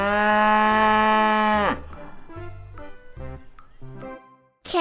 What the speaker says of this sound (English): That's right. It's a cow.